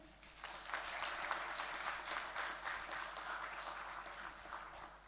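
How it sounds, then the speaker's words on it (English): An audience claps steadily for several seconds, a dense patter of many hands heard from a slight distance, fading a little toward the end. "Can you give a big applaud for all of you?"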